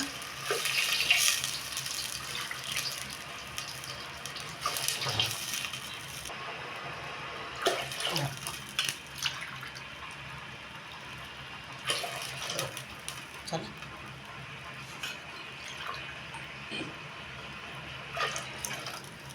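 Water is poured into a cooking pot in a home kitchen, a soft continuous splashing and trickling at moderate distance, rising in short bursts over the steady background.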